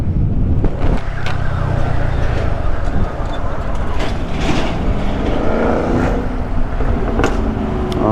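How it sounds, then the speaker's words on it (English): Dodge Hellcat car passing at a red light, a loud engine rumble and whoosh rising and fading over steady street traffic, with a voice heard briefly. "Oh, another Hellcat."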